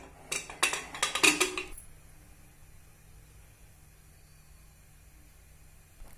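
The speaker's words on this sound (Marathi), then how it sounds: "आता कुकरचं झाकण लावून कुकरच्या 2 शिट्ट्या करायच्या" A metal pressure cooker lid is fitted shut with a quick cluster of sharp clanks and scrapes up close, then a faint hiss of room noise for the rest of the clip.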